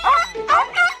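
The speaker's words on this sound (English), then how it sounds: "the kids alert some guard dogs" Guard dogs in a crudely animated film give three quick, yappy bow-wow barks in a row, loud and close, with a whimpering tone and nothing else underneath.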